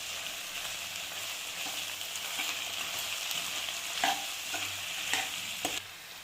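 Ivy gourd frying in a pan with masala powders and dry mango powder stirred in: a steady close sizzle with continuous scraping strokes and several sharp metallic clinks from the utensil, no voices.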